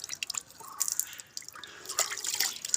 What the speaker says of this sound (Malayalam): മുഖം ഇങ്ങനെ കഴുകിയെടുക്കാം കേട്ടോ